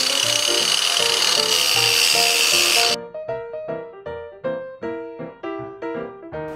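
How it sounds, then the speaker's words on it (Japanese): A grinder works the edges of a wooden kotatsu table, making a loud, dense grinding whine for about three seconds that cuts off and is followed by a run of rhythmic ringing, clattering strokes. "グラインダーでちょっと周りを削ったんで"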